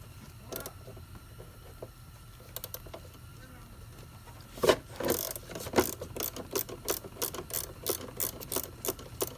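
A ratchet loosening the battery bolt on a Ford Focus, a rapid run of sharp metallic clicks in a steady rhythm, close and fairly loud after a few scattered clinks.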